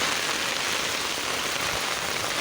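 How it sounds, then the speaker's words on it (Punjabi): Heavy rain pours down on a flooded village road in Chari, a steady, dense hiss of falling water that holds constant throughout, with no voices. "ਬੇਹੱਦ ਮੀਂਹ ਪੈ ਰਿਹਾ"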